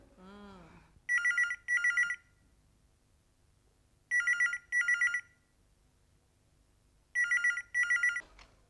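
A telephone rings in repeated double bursts, three pairs evenly spaced with silence between, bright and close, after a brief voice at the start.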